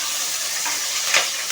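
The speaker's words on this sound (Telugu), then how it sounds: "ఫ్రై చేసుకోవాలి." Onions sizzling and frying in a pan for paneer biryani, a loud steady hiss with a brief stir swelling near the end, no voices.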